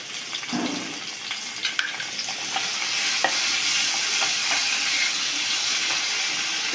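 Tomatoes and curry leaves sautéing in oil in a pan, a steady close sizzle with occasional clicks and scrapes of stirring, no voices.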